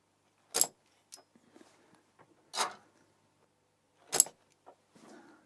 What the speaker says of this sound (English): Vintage solder sucker on a vintage keyboard.